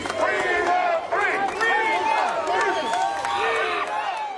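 A crowd gathers in support as three Honolulu police officers walk through in the morning, with loud sustained cheering, whoops and shouts from many voices and some clapping mixed in.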